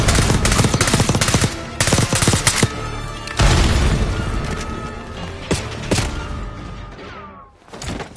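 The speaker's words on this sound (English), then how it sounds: "Look out, grenade!" A video game firefight has dense bursts of automatic gunfire and booming blasts, including a grenade explosion. It is loud and close throughout and drops out briefly near the end.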